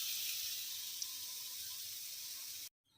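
Steady rushing tap water runs while a frying pan is washed in a sink, close and constant for a few seconds before stopping abruptly.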